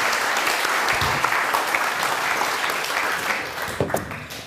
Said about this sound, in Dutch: Alsjeblieft nog graag een applaus.